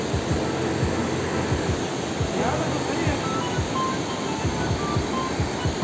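Broad, steady rushing of water close to a waterfall on an outdoor outing, a continuous loud wash of noise filling the whole clip with scattered low thumps and faint voices underneath.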